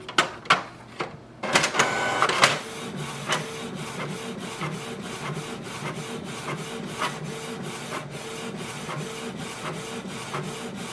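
A Canon Pixma TS3460 inkjet printer prints a page, starting with a few sharp mechanical clicks and a brief motor whir, then a steady rhythmic shuttling of the print head with regular ticks, close by and without speech.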